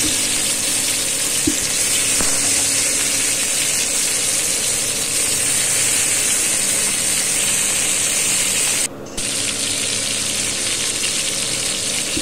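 Fish frying in a little oil on a hot tawa, a steady loud sizzle that runs continuously with only a brief dip near the end, no voices over it.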